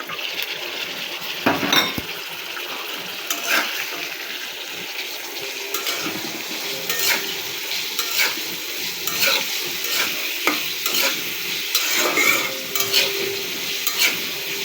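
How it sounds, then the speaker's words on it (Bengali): Chopped garlic and green chillies frying with onion in oil, a steady close sizzle with stirring scrapes and occasional utensil clinks, no talk. "পেঁয়াজটা হালকা ভেজে নিলাম। এখন রসুন আর কাঁচামরিচ কুচিটা দিয়ে দিব।"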